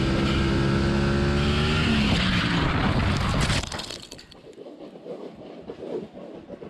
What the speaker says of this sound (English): This happens when a rider loses traction on high speed.